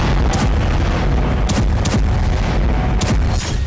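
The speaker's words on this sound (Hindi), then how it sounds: "ईरान की राजधानी तेहरान में रह रह कर धमाके हुए" Missile explosions during Israeli strikes on Tehran, Iran, come as several loud, booming thuds at irregular intervals over a dense, continuous roar of noise.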